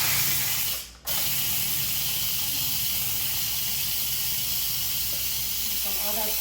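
An Instant Pot gives a quick pressure release while cooking pork carnitas, venting a loud, steady rush of steam that briefly dips near the start, then hisses on unbroken.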